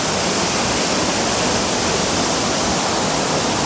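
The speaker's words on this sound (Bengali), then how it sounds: "জলের যে দাপট, হাওয়ার সঙ্গে জল উড়ে আসছে।" Bhimkund waterfall in monsoon spate, a loud, dense, unbroken roar of rushing water heard close up with no let-up and no voices.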